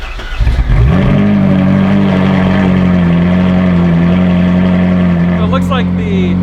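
A stock-exhaust Ferrari 458 with the exhaust valves open cranks and fires up loudly nearby, settling into a steady, deep idle, then gets a quick blip of the throttle that rises and falls near the end.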